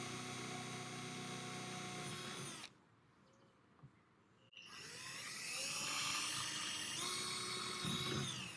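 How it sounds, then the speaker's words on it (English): Power drill boring a hole through a kayak hull with a 5/32 bit: a loud steady whine that stops for about two seconds, then starts again with rising pitch and keeps running to the end. "I'll be drilling a hole using a 5/32 bit,"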